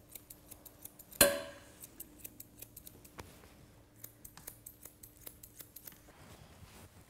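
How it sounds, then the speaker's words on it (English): Grooming scissors trim a Labradoodle's coat on the inside of the thigh, a quick regular series of small crisp snips up close, with one louder clack early on and no talking. "we're just going to trim that straight up, right up to the inside of his thigh"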